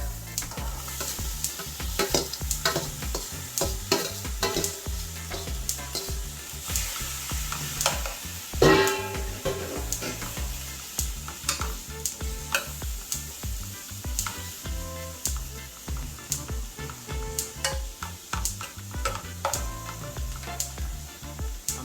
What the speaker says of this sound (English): going to allow my natural seasoning to cook like about